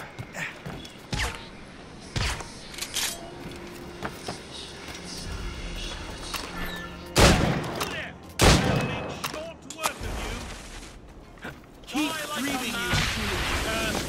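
Gunfire in Assassin's Creed Rogue: several sharp, loud shots and bursts go off at irregular intervals over game ambience and mechanical clatter, with a person talking in between.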